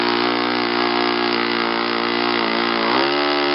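A YS FZ115S model aircraft engine runs steadily at 40% throttle, a loud, continuous buzzing drone close by, with a slight pitch dip near the end.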